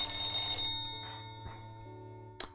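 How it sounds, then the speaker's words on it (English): Rotary telephone ringing in a visual novel video game, a bell-like burst with a few soft repeats and a sharp click near the end, fairly quiet over a steady low hum. "Spin the dial and wait for the telephone to start ringing."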